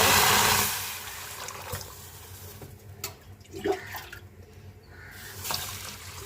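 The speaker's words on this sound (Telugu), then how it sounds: "ముందుగా అయితే కందిపప్పు శుభ్రం కడుగుతాను" Toor dal being rinsed in water at a home kitchen sink, with a tap running loudly at first and then softer splashes and sloshing as the lentils are swirled, close by with no talking.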